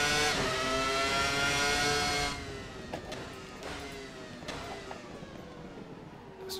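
Williams FW19 Formula 1 car engine in the Assetto Corsa racing game, a loud, steady high-pitched whine held at high revs before dropping slightly, with brief clicks of gear changes and no talking.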